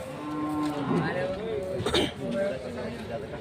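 Cattle low repeatedly at the Siddaganga cattle fair in Tumakuru, several drawn-out moos overlapping amid a busy crowd, with people talking close by throughout.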